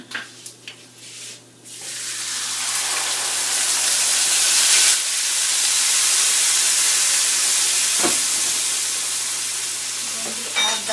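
Whole spices and black peppercorns hit hot oil in a pan and settle into a loud, steady sizzle and hiss, close by, with a few clinks of stirring near the start and end.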